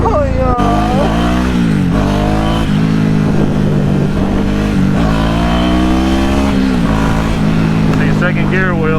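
A motorcycle on a test drive revs and accelerates hard through the gears, its engine note rising and dropping loud and close across the whole stretch, with someone talking over the ride.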